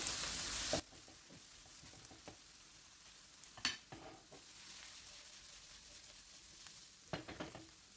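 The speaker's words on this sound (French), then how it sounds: "On va bien laisser griller mes poivrons avec les oignons." Bell peppers and onions fry in a pan with a quiet, steady sizzle, broken by occasional scrapes and clinks of stirring, close and low in level.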